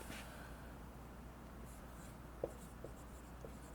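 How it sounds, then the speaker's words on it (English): A marker or chalk writes on a board during an economics lecture, with quiet scratchy strokes and a few small taps, faint against a low room hum and no talk. "So I'm going to write that down up here."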